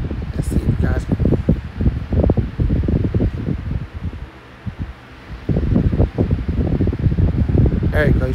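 A vintage 1975-76 Patton high velocity fan with a shaded-pole motor spins counterclockwise, giving a steady close whir with heavy wind buffeting against the microphone.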